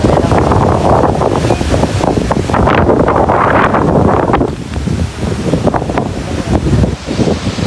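Strong wind buffets the microphone outdoors in the Netherlands, a loud, continuous roaring rumble with gusty swells that ease slightly toward the end, with no other sounds clear over it.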